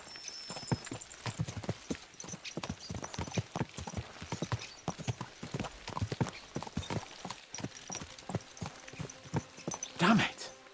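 Horse hooves gallop in the video game Kingdom Come: Deliverance II, a steady, rapid clip-clop rhythm throughout, with a louder burst near the end and faint voices underneath.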